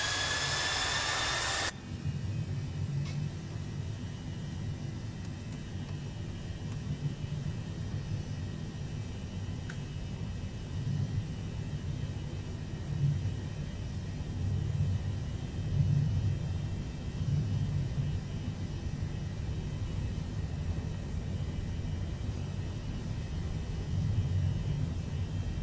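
Airbus A321 jet engines in Microsoft Flight Simulator 2020 roar steadily at takeoff power, a continuous low rumbling whine that holds for a long stretch after a brief cockpit sound at the start.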